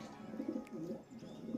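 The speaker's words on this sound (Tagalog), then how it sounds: "Mga kalapatids, eto na yung mga flyer ni Amo" Pigeons cooing nearby in a low, soft, throaty burble, several short rolling coos in quick succession, quiet and alone.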